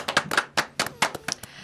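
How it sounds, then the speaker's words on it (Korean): Soft, light applause in a talk-show studio: quick, gentle hand claps from a small group, close and fairly quiet, lasting under two seconds without any talk. "박수도 좀 작게 쳤네"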